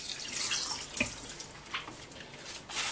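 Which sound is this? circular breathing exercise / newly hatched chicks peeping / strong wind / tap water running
tap water running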